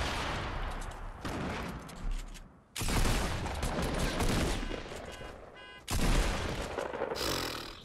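Weapon fire in the video game Fortnite comes in bursts of loud, crackling shots, broken by two short near-silent gaps, with scraping mechanical clatter between volleys and no talking.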